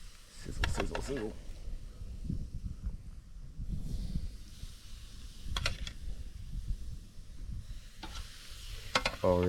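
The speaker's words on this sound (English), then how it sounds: "Sizzle, sizzle, sizzle." Food sizzles on a barbecue grill at a weekend cookout on a homestead in Japan: a steady crackling hiss with scattered sharper pops, heard close up throughout.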